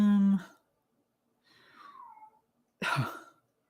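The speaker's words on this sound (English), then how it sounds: "And now my cat is howling." A house cat howls in a short, wavering cry that slides downward in pitch, heard nearby between a brief human sound before it and a cough-like burst after.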